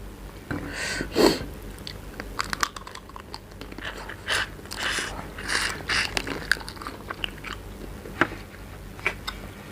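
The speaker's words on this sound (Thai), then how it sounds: "เดี๋ยวเราจะมากินเค้กแบบกล้วยนะคะ" Someone bites and chews banana cake close to the microphone, with soft crumbly crunches and moist smacking sounds coming in irregular clusters over a quiet background, and no talking.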